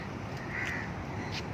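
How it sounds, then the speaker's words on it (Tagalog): Crows caw a few times at a distance over a steady background hum, with two or three harsh calls standing out. "Oh, may uwak, oh. Ayan, mga uwak."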